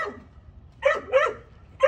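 A newly acquired puppy gives several short, high-pitched barks, three close yaps spaced about a second apart, loud and near with no talking over them.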